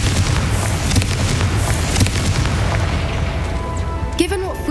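A Confringo fire spell explodes in a Harry Potter–style video game, a loud continuous booming blast with rumbling low end filling the clip, fading near the end as a brief whooshing tone rises over it.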